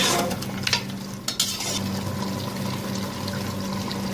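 A spoon stirring spiced meat and potato curry in a pot for Punjabi aloo gosht, with scraping and clinks of metal over a soft sizzle, heard close up with no speech.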